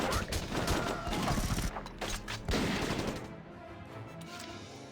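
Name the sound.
gunfire in the video game Valkyria Chronicles Remastered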